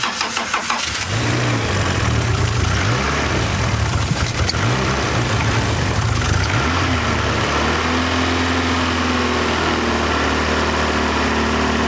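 A hatchback prepared for a track day cranks, fires after fuel priming and runs unevenly before dropping into a steady, close idle.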